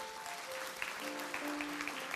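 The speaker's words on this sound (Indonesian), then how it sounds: "Kasih tepuk tangan untuk Tuhan Yesus." Indonesian church congregation clapping for Jesus during a sermon, a soft, continuous patter of many hands with faint tonal sounds in the background and no one speaking.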